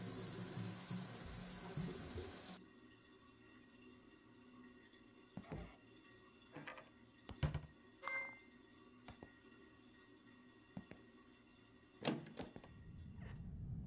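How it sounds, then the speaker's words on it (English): Shower water running in the Shadows of Doubt video game: a close, steady spray for about two and a half seconds that cuts off, followed by scattered soft thuds and clicks in a quiet room. "So I'm just having a nice long shower,"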